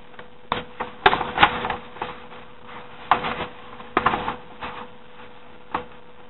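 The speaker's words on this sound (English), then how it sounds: "you're going to fold it like so" Paper crinkles and creases in short, irregular bursts as it is folded for an origami butterfly, with a few sharper crackles, close up against a quiet background.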